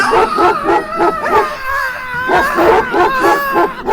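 A motion-captured dog in Call of Duty: Advanced Warfare barks and yelps loudly in quick, repeated bursts, with a drawn-out whining howl in the middle before the barking resumes.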